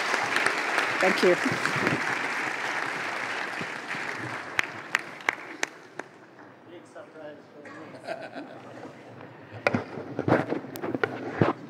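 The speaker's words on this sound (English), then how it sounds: "Let's give the President a round of applause as he comes up." Applause rises at a leadership dialogue event as the President comes to the podium, a loud burst of clapping that fades away over the first five seconds, followed by scattered claps and a short spoken thanks.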